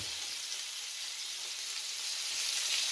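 Rib-eye steak sizzles while searing in a hot pan, a constant bright frying hiss that holds evenly and grows slightly louder toward the end, with no talking.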